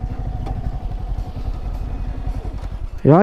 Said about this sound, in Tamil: Back wheel ABS, back brake மட்டும் இப்படி அடிக்கும். அதான் கிரிட்டுன்னு அடிக்குது.